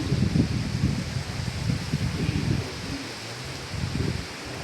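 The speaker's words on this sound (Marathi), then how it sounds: "झाला पाऊस पडतो हलका हलका, थेंब. वारा सुटलाय" Strong wind blows during light rain in a Konkan village outdoors, as a continuous low buffeting rumble that swells and eases in gusts. No individual raindrops stand out, and no one talks.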